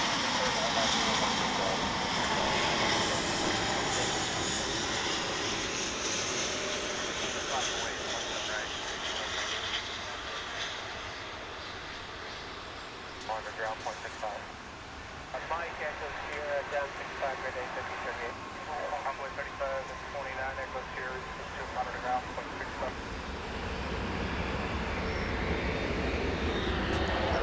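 An American Airlines Boeing 777 from Honolulu approaches DFW International Airport, a distant broad jet roar that builds and fades with a commentator talking over it throughout.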